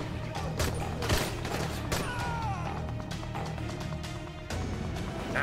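Gunfire in the video game Dying Light, a run of sharp shots and impacts with crashes and thuds, scattered across a busy mix of game sound.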